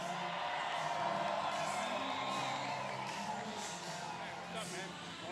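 A large political rally crowd roars and cheers for union leader John Samuelsen in a continuous, broad wash of noise while an announcer's amplified voice talks over it.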